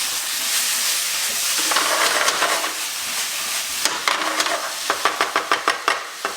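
Vegetables for a pasta sauce sauté in a hot pan with a steady, bright sizzle and hiss. Stirring scrapes come through, ending in a quick series of sharp utensil taps against the pan.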